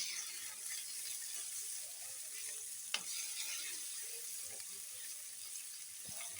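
Minced chicken frying in a pan for kachori filling, a steady broadband sizzle with a few faint clicks of stirring and one sharp tap near the middle, no talk.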